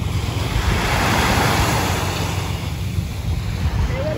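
Ocean waves washing onto a beach at Bataan, a continuous loud surf roar mixed with wind buffeting the microphone, no voices over it.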